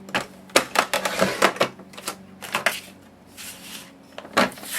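Paper trimmer slicing a full sheet of cardstock down to size for a divider, heard as a series of close, crisp sliding cuts and clicks in quick irregular bursts with short pauses, no talking.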